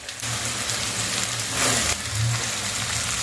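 Finely chopped vegetables for spring rolls sauté briefly in a pan with a steady, close, rain-like sizzle that swells slightly midway, over a low hum and with no talking.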